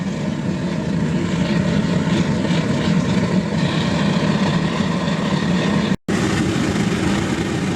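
An oil-burning furnace with its blower cranked up to melt aluminium gives a loud, steady broadband roar that runs continuously, with a brief cut near the end.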